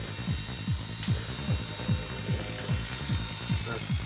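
A small motorized model railway track cleaner with a little vacuum runs close by, a steady ratcheting click about twice a second over a constant whirring hum.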